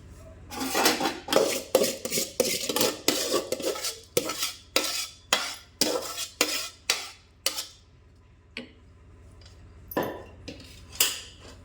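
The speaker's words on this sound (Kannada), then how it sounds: "ಈಗ ನೋಡ್ರಿ ಒಂದು ಸ್ವಲ್ಪ ತಿರಿವಿ ಕುದಿಲಕ್ಕೆ ಬಿಡಕ್ಕೆ" A spoon stirs chickpea, potato and tomato pulao in a metal pot with a series of sharp, close scraping clinks that come in a steady rhythm, then thin out and space apart toward the end.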